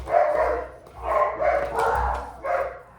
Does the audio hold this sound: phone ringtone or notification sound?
no